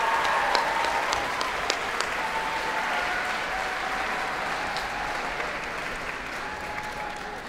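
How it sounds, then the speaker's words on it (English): An audience applauding at an evening choir gala concert, a sustained wash of many hands clapping in a hall, steady and fairly loud throughout, with faint crowd murmur. "Another round of applause, please, ladies and gentlemen."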